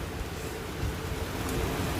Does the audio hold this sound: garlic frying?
no